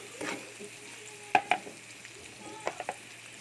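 Sopas ingredients such as cabbage are sautéed in a pot, giving a soft background sizzle broken by a few sharp clinks and scrapes of stirring, with no voices.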